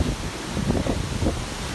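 Strong wind from Hurricane Irma in Florida buffeting the microphone as a continuous loud rumbling roar, close and unbroken, with no voices.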